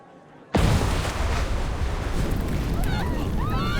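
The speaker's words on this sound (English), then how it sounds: "Suddenly, the sound of an explosion rings out." A sudden loud blast bursts in after a quiet start in the game Love and Deepspace, followed by a sustained roaring rumble with faint high whistling tones.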